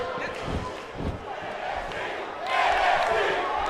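A rowdy arena crowd in the WWE 2K18 wrestling video game chants and roars through an NXT match, swelling louder toward the end, with thuds of in-ring impacts mixed in.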